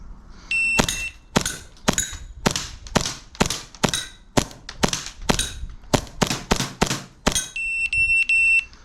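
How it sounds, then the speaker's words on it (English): An airsoft gun fires at a row of targets in a timed run, sharp snappy shots in a quick uneven series of about a dozen, with electronic beeps from a shot timer at the start and end. "let's go again and see how long it takes for us to shoot all of these targets"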